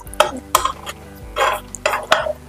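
A vegetable omelette flipped in a pan, a few sharp scraping and clattering spatula strokes over a quiet sizzle, close up, with brief talking between them.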